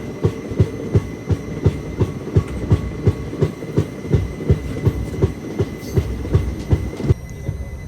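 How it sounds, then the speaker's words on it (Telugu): Locomotive-hauled special train from Hyderabad to Arunachalam rolling along with a steady, even clickety-clack of wheels over rail joints, loud and close, a continuous rumble under the beats, no talking. "మన లోకోమోటివ్ అదిగోండి."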